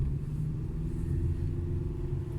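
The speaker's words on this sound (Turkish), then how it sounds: "Devir yükseldi." A manual-transmission car converted to automatic-style shifting pulls away in first gear, its engine a steady low rumble with revs climbing gradually, heard alone without talk.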